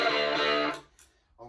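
Electric guitar played through a Holy Island Audio Abracadabra pedal, a sustained processed chord ringing for most of a second before cutting off, followed by a brief quieter note.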